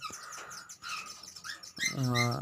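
Pet cockatiels or lovebirds in a breeding setup give close, bright chirps in short bursts, ending in a longer, louder call.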